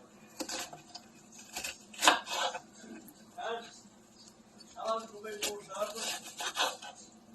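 A knife chops onions on a cutting board in bursts of close, uneven taps and scrapes, mixed with clinks of kitchen utensils while a person talks.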